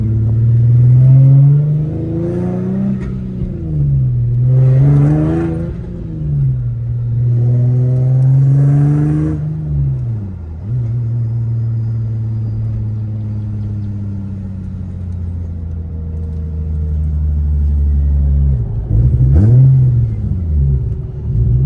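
An Infiniti G37 with a revamped drivetrain revs while driving on the road, the engine rumbling loudly and rising and falling through several throttle blips, then settling into a steady drone before another rev near the end.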